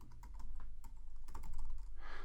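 Quick typing on a computer keyboard while entering short copyright text, with a run of close, crisp clicking keystrokes and a brief softer rustle at the end.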